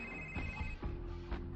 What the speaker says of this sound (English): I dialed her number. It rang.